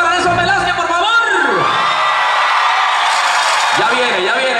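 A concert audience cheers and whoops for an arriving performer, a loud, continuous roar of many voices with shouts and whistles rising and falling.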